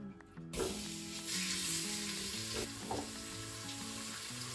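Bacon sizzles steadily in hot oil in a Crockpot Express, a dense, even crackle that starts abruptly and continues close and clear, with faint stirring sounds and no talking.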